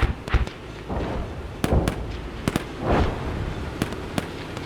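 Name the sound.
HE rounds fired from a Marder 1A in video game Gunner HEAT PC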